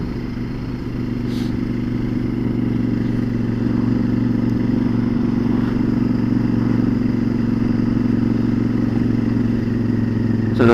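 A Honda Varadero 1000 motorcycle pulls away and builds speed along a country road, its engine a steady, loud drone with wind noise, recorded from the rider's position without speech.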